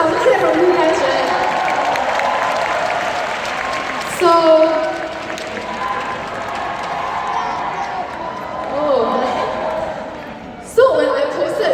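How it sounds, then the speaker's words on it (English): Audience applause at a business summit, crowd clapping with scattered cheers and laughter, swelling and fading across the stretch with voices over it. "I think I deserve some clap from you guys, right?"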